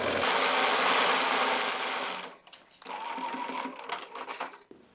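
A sewing machine stitching raw edge appliqué, loud and close, whirring steadily for about two seconds, then stopping before a second, softer burst of stitching with some rustling of fabric.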